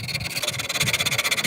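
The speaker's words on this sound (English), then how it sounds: "so a rolled sandpaper" Rolled sandpaper rubs against corroded taillight contacts on a Volvo 164 in quick, rhythmic back-and-forth scrapes. The rasping is close and fairly faint.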